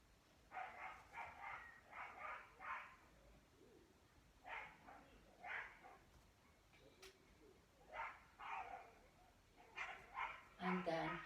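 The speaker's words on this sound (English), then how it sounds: "you're going to be able to hear the dogs outside" Dogs outside bark in faint, distant bursts of several rapid barks, repeated in clusters with quiet gaps between them.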